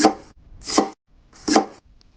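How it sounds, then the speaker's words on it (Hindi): An axe chops wood, three heavy, evenly spaced blows landing close and loud, each a sharp thud with a brief crack and a quiet pause before the next. "जब वो लकड़ियां काट रहा होता है"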